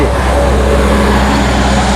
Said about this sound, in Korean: 근데 차 소리가 왜 이렇게 커?